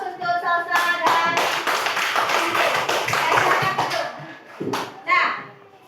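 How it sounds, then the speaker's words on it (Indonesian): Classroom applause for a sixth-grade student named Salsa during a geometry lesson on circles: a burst of many hands clapping through most of the span, mixed with children's voices, fading then a brief final flurry. "beri aplaus untuk Salsa"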